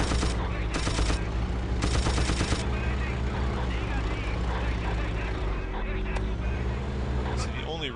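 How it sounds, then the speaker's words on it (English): Battlefield 1942 battle sounds on the Caen map with artillery fire, booming blasts and rapid gunfire layered over a steady rumble of vehicles, loud and dense throughout, with talk mixed in. "And there's the artillery again."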